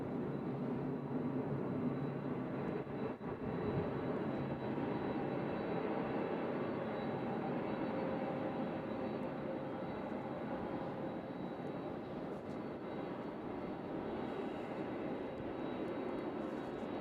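Aircraft at Louisville's UPS World Port cargo airport produce a constant, broad engine roar that holds steady and fairly distant for the whole stretch, with no talk over it.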